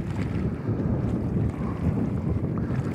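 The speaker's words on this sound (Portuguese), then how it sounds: "Hoje está um pouco agitado o vento" Wind blows over the choppy water of the Jati dam reservoir in Ceará, a continuous loud low rumble and buffeting against the microphone with the wash of water underneath, and no voices.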